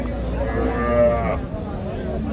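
A heifer calf at a cattle market gives one drawn-out, low moo lasting about a second, close by, over a dull background murmur.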